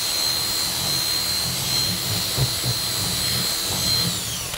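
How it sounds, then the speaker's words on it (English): A power drill fitted with a circle cutter bit bores a round hole, giving a steady, continuous whir and grind with slight bumps as the cutter bites, close and loud throughout. "my same drill bit from before"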